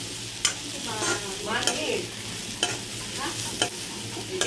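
Food sizzles in a hot pan with a steady frying hiss, punctuated by several sharp clacks and scrapes of a utensil stirring, close and clear.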